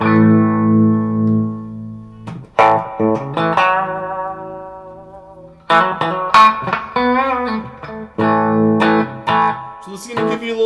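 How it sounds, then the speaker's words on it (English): An electric guitar runs through the harmonic tremolo of a Keeley Mod Workstation pedal, playing sustained chords and then busier picked phrases that pulse and shimmer, clear and loud, with no speech. "let's move on to our harmonic trem here, which is going to be our second modulation sound"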